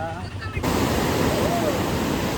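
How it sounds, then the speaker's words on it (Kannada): Strong, heavily flowing river water rushes past with a dense, steady roar. A brief muffled moment comes first, then the broadband rush fills everything, loud and close. "ಇವಾಗ ನಾವು ನದಿ ನೋಡಕ್ಕೆ ಬಂದಿದ್ದೀವಿ. ನೋಡಿ ಇಷ್ಟು ನೀರೈತೆ, ಹೆವಿ ಫೋರ್ಸ್ ಐತೆ ಮಾತ್ರ."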